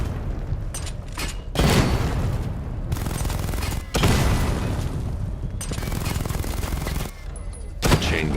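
A chain gun in Batman: Arkham Knight fires in several heavy bursts of rapid, booming shots, loud and close, with short pauses between the volleys.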